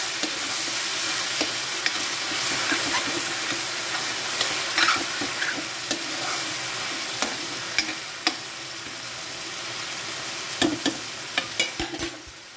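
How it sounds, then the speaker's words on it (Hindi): Ground tomato masala sizzles and fries in a pan for paneer do pyaza while a spoon stirs it, giving a steady soft hiss with scattered scraping clicks and taps. "और इसे भी अच्छे से भून लीजिए।"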